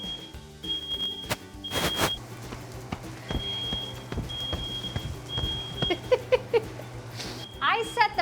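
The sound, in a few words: smoke alarm beeping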